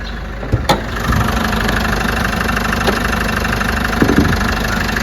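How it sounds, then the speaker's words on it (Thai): Isuzu D-Max 1.9 Z Stealth pickup, 2019, idling steadily with the bonnet open, a continuous close engine drone with a few brief knocks and clicks near the start and at four seconds. "แต่ผมสตาร์ทเครื่องไว้ด้วยนะครับ"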